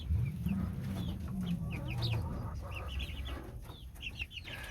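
Young chicks in a roomy new brooder pen cluck and peep continuously, a steady close chorus of short chirps with some low rustling underneath, no talking.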